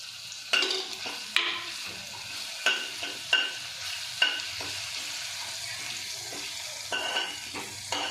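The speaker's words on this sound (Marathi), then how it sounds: "त्यामध्ये आपण जिरं आणि लसूण टाकून घेऊयात।" Cumin seeds and garlic dropped into hot oil on low gas while cooking masala brinjal, giving a steady close sizzle with repeated sharp stirring scrapes and clicks of a spoon against the pan, no talking.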